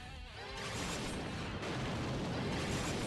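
An explosion spell cast in the role-playing game Bravely Second: End Layer, a loud, broad crackling blast that swells after a brief quieter start and rumbles on steadily for a few seconds, with no speech.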